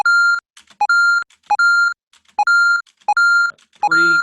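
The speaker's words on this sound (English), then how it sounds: "And this will be the sound it makes when you pick up a coin." A video game coin pickup effect repeats six times in quick succession, each a short two-tone electronic bleep rising to a bright, sustained chime, loud and clear with brief gaps between.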